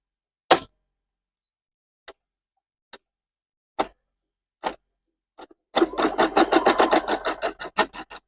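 A flatbed embroidery machine stitching a baby blanket: a few sparse isolated clicks, then a fast steady run of rapid mechanical needle taps close to the microphone.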